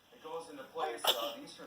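A baby sneezes once, a short close burst after a faint intake of breath.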